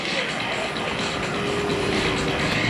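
RV-8 aerobatic propeller airplanes flying a half-Cuban 8 loop at an air show, a loud continuous engine and propeller drone that holds steady and fills the whole short stretch.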